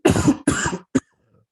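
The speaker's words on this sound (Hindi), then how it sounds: "अभी मुझे खांसी आ जाती है।" A man coughs hard three times at close range, with two long harsh bursts followed by a short one, then silence.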